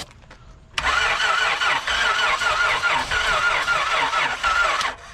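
A car engine cranks and catches after a quiet moment, then runs at a steady, rough idle close by, loud and alone for several seconds before cutting off.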